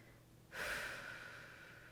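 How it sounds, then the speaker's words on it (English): A single slow, close breath during a stretching warm-up for roller skaters, a soft airy rush that starts abruptly and holds steady for over a second in a quiet room. "Breathing in through the nose and out through the mouth."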